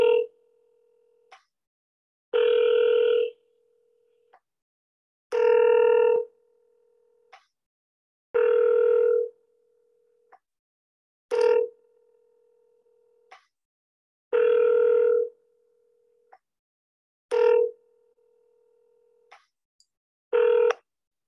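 An outgoing phone call rings unanswered, with repeated steady ringback tones in an even on-off rhythm, each burst followed by a brief quiet gap, clear and close with no talk.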